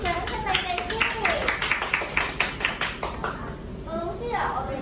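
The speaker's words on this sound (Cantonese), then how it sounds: "俾啲掌聲你哋先。" Young kindergarten children clap together in a classroom in a quick, even rhythm of several claps, mixed with their voices and an adult talking before and after.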